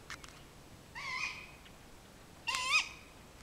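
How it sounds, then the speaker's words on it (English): A family of great gray owls gives two short, faint calls in the open outdoors, with a quiet pause between them and a low steady background hiss. "You can hear they're being very vocal."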